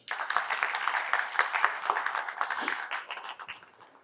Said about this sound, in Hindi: फिर से ताली बजा दो यार.